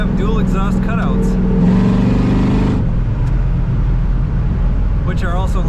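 Engine of a 1972 Pontiac Ventura Nova clone with dual exhaust cutouts, a loud, steady low rumble that climbs briefly in pitch as it revs, with a voice talking at the start and end.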